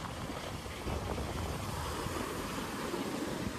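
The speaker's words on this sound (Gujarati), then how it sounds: "તો અત્યારે પવન બહુ ચડી ગયો છે એટલે મોજા પણ વધી ગયા છે" Sea waves churned up by strong wind at Somnath beach, a steady broadband roar of surf with wind rumbling against the microphone, close and loud throughout with no voices.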